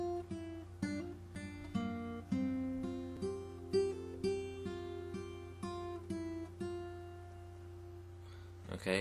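A guitar, likely acoustic, picks a passage from a country song, as single notes and short phrases over sustained ringing tones, played close and clear with no talking.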